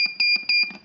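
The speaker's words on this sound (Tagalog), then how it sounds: "buzzer" A ZL66T melody IC module, a tiny 3.7 V DC buzzer breakout board, emits a rapid series of about five shrill electronic buzzer pulses in under a second, loud and close.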